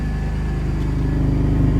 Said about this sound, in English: Sounds so nice, this exhaust.